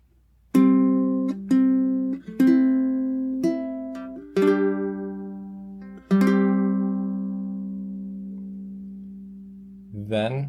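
Fingerstyle ukulele plays a slow bar of the hymn Holy, Holy, Holy, six plucked notes and chords ringing out clearly and letting each one decay in quiet between.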